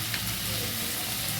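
Potato pieces fry in hot oil in a wok, giving a steady, close crackling sizzle that continues unbroken throughout.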